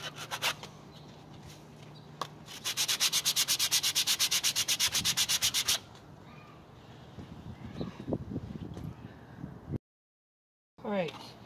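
Sandpaper rubs by hand over Bondo body filler on a ghost trap prop, irregular scratchy strokes then a run of fast, even back-and-forth passes, followed by slower scraping, close and loud.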